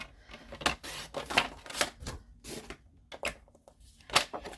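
Card paper being trimmed to size for a folded double triangle flap card, a run of crisp, close, fairly quiet cuts and slides coming in irregular bursts with short pauses between, no voice over them.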